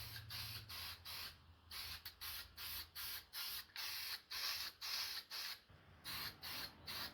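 Black 2-in-1 primer and top coat is spray painted onto homemade candlesticks, with about a dozen evenly spaced short hissing bursts, soft and close, no voices.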